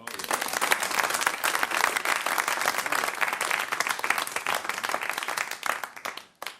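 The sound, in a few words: audience applause for the performer's grandfather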